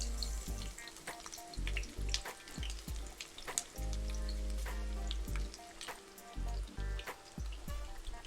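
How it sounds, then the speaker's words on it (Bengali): Onions frying in hot oil that was just used for frying kofta, a continuous crackling sizzle with scattered pops and occasional stirring clicks, close but fairly soft, with no voices. "ওই তেলটার মধ্যে আমি কিছুটা পেঁয়াজ দিয়ে দিচ্ছি।"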